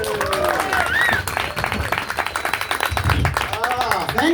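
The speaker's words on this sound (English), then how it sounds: "Please give a big, warm round of applause for Gareth Ball." Comedy show audience clapping and cheering as a comedian is welcomed on stage, a lively burst of applause with whoops and voices mixed in.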